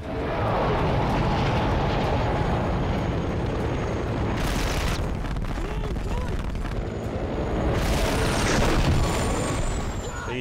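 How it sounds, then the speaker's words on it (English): A helicopter's tail rotor is shot out in the action film Top Gunner (2020), producing a loud, dense roar with a couple of sharp blasts, while voices are heard beneath the din. "So you took out the tail rotor"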